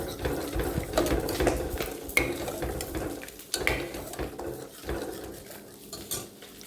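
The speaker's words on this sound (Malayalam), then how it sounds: "നന്നായിട്ടൊന്ന് ഉടച്ചു കൊടുക്കാം." Cooked lentils (dal) being mashed in a pressure cooker pot, giving a steady run of scraping, clinking and stirring knocks of utensil against metal, close and moderately loud with no talk.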